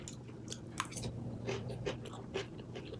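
Close, fairly quiet chewing of salmon and steak salad, with soft crunches and wet bites repeating irregularly and no talking.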